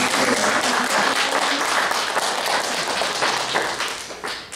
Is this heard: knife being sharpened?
no